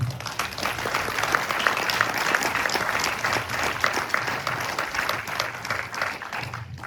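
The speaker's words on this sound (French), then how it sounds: "Je crois qu'on peut vous applaudir." Audience applauding steadily after a lecture on wartime Franco-Swiss border crossings, dense clapping filling the hall at an even level throughout.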